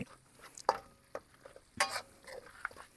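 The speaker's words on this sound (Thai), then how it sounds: "เปิดไฟเบาๆผัดเครื่องแกงก่อนวันเดี๋ยวลองลองเอาปลา มาผัด" Bonito fish stir-fried with curry paste in oil over low heat at an outdoor cooking spot beside a reservoir: a few sharp spatula scrapes and clinks against the pan over a faint, steady sizzle, with no talking.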